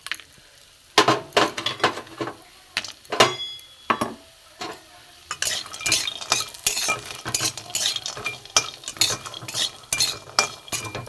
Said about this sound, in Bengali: কড়াই তেল দিয়ে দিয়েছি, এই যে বড়ি আছে এই বড়ি ভেজে নেব।